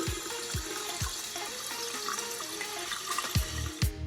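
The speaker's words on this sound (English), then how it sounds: "Add some water." Water poured onto a floor runs and splashes steadily, like a tap pouring, with a few soft thumps in the background.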